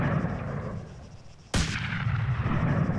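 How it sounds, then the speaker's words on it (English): A sniper rifle in the ARMA 3 video game fires at a helicopter's main rotor, one loud sharp shot cracking out midway over a steady background rumble. "Next I'll put a few shots into the main rotor,"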